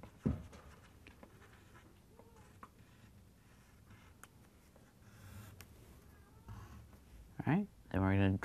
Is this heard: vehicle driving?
no